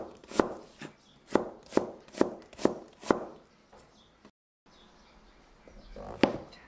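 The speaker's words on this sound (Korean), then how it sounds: "양파는 채 썰어 주세요." A knife julienning onion on a cutting board for burdock japchae, with seven or eight sharp, evenly spaced chops up close, then a brief pause and a quieter stretch ending in one more cut.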